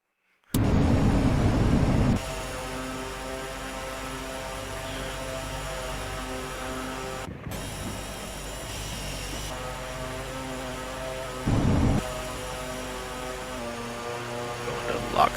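Steady drone of a Real Air Duke Turbine aircraft engine during an FSX flight simulator replay, a continuous tonal hum with brief louder surges near the start and around the middle, heard alone without talk.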